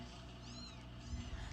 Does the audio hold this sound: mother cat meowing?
yes